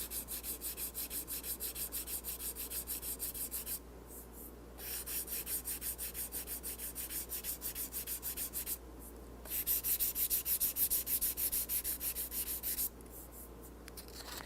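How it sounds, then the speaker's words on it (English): Sandpaper rubs steadily over a repaired spot in a guitar's finish, a dense scratchy rasp in continuous strokes broken by three short pauses, close and alone with no voices. "sand until the shadow of that repaired area is gone"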